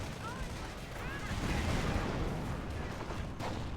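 Artillery shelling in the Company of Heroes real-time strategy game, a steady wash of distant booms and rumbling fire that swells midway, with a voice talking over it.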